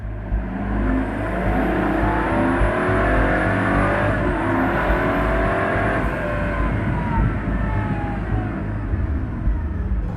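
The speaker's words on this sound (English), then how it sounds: "Driving a Pagani Huayra" A 2014 Pagani Huayra hypercar with a twin-turbo V12, driven around Modena, gives a loud, steady engine drone with rising and falling revs. It sounds up close and continuous, with no speech.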